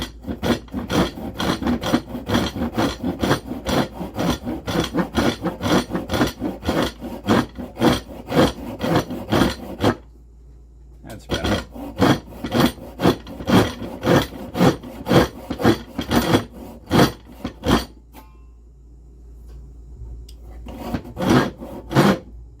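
Hand saw with rip teeth cutting through wood in a shop, a steady run of rhythmic rasping strokes, close and loud, with one brief pause midway before the sawing resumes.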